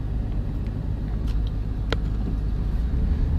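An Audi R8 supercar rolls through a slow U-turn, its engine giving a steady low rumble heard from inside the cabin, with a few small clicks and knocks.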